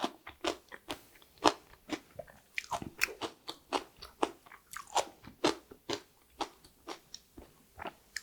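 Crisp, crunchy bites and chewing of ponytail radish (altari) kimchi, torn by hand, with repeated close, loud crunches in an irregular rhythm and no talking.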